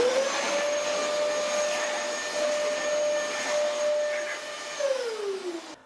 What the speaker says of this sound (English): the Dyson DC33 in hard floor mode